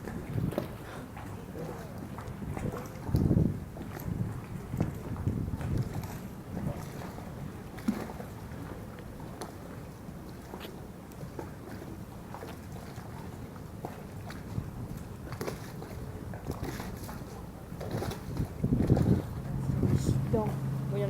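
Water slaps and laps against boat hulls in a harbour, a soft, irregular sloshing under gusty wind noise on the microphone, with people talking nearby at times.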